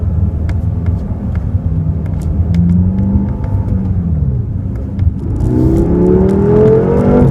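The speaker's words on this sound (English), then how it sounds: "Love the sound from that V8 twin turbo engine." A 2015 BMW M6 Gran Coupe's twin-turbo V8 engine pulls through the gears on a test drive, a loud close rumble rising in pitch, easing, then climbing again in a second strong acceleration.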